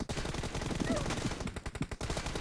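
Bursts of rapid gunfire from the mobile battle royale game PUBG Mobile, dense repeated shots rattling loudly across the whole moment with a few gaps near the end.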